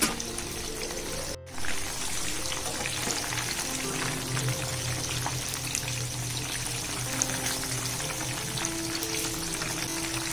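Chicken kabab pieces fry in hot oil in a pan, giving a steady, moderately quiet sizzle and crackle with faint pops throughout.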